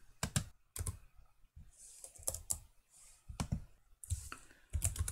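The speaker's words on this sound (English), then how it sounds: "Click that and type in spreadsheet." Typing on a computer keyboard while entering a name in CAD software: close, crisp key clicks in short irregular bursts with brief pauses between, and no speech.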